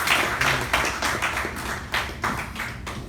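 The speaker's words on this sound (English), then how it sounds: "Please join me in welcoming Mr. Ranjeet Kumar with a huge round of applause." A small gathering at an installation ceremony applauds to welcome a speaker, with sparse, uneven claps and a few distinct louder hits, fairly quiet and close, with no talking.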